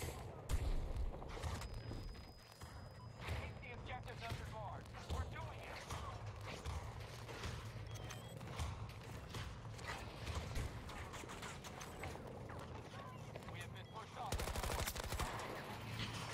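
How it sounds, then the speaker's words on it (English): Gunfire in Battlefield 2042 on the Flashpoint map: dense, continuous bursts of shots and explosions fill the whole stretch, with several players talking over the din. "Oh man, what's shooting at us?"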